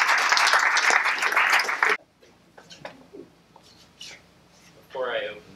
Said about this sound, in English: I do want to make sure we also give Bill a round of applause